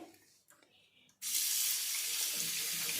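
A brass plate and a glass being washed under a running tap, a few faint clinks, then a sudden loud steady gush of water into the sink that continues to the end.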